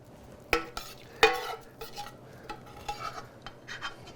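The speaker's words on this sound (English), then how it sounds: "fry that up with an onion and some garlic" Ground beef frying with onion and garlic in a pan, with a few sharp utensil scrapes and stirring clatters over a low, steady sizzle, close and moderately loud, no talking.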